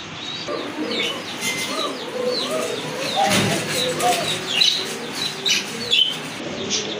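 A pair of blue shirtin pigeons with feathered feet at a pigeon farm, with soft cooing under a steady, busy chorus of high chirps and tweets from many nearby birds, continuous throughout.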